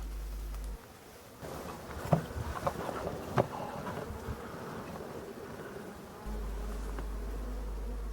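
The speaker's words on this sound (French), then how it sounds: "on peut voir que c'est un bel essaim d'abeilles noires" A swarm of black honey bees settled on a small shrub hums outdoors, a layered buzzing drone with individual bees passing close to the microphone, over light wind rumble.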